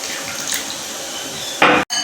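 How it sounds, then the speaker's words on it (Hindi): Water splashing from a tap into a bowl of jalebi batter being thinned and stirred, with a steady running hiss and a louder burst of pouring near the end, no voices. "आपने साथ साथ थोड़ा थोड़ा पानी ऐड करना है ताकि बिल्कुल ये लेसदार बन जाए"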